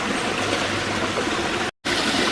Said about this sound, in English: Very nice looking stream.